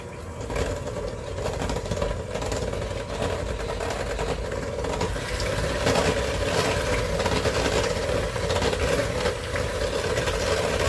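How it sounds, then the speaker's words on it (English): A blender whirs steadily and loudly with no break, mixing sugar-free pumpkin muffin batter with a teaspoon of vanilla added. "We're going to blend this up."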